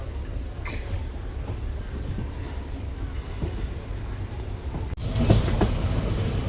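The 12604 Chennai SF Express, with general, sleeper and AC coaches, runs along the Guntur route with a steady low rumble of wheels on rail that swells into a louder burst near the end.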